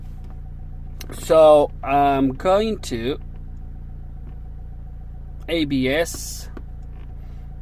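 A Nissan Qashqai J10 with an ABS fault idles, giving a steady low engine hum throughout while someone speaks in short bursts over it.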